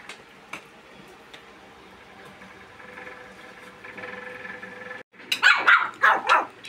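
Puppies barking in quick bursts, loud and close, after several seconds of quiet room noise, during a morning breakfast at home.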